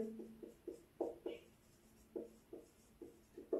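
Marker or chalk writing on a classroom board during an English grammar lesson, heard as a series of short, distinct strokes and taps in irregular rhythm, close and fairly quiet, with no talking.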